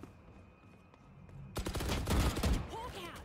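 Video game gunfire: after a quiet stretch with faint background tones, a sudden burst of rapid shots rings out loud and close, followed by ringing, fading tails.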